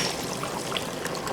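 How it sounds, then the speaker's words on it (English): Coconut milk pours into a pot for Trinidadian chicken pelau, a brief soft continuous trickling splash, close and fairly quiet, with no voices. "Adding in the coconut milk."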